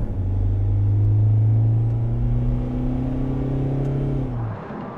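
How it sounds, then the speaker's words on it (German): A Mercedes with automatic transmission and all-wheel drive holds its engine revs high on kickdown, a loud, close, steadily rising drone that climbs for several seconds before easing off as the gear finally changes. "bis auf der Kickdown ziemlich lange den Motor hochzieht"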